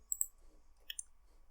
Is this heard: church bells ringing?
no